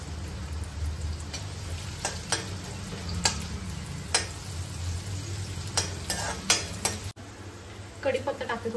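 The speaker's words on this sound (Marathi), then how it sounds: "डायरेक्ट आपण फोडणी देऊ." Hot oil sizzles steadily as a tempering (phodni) is made for a Konkani fresh cashew vegetable dish, with sharp clinks of a spoon against the pan punctuating the frying close by.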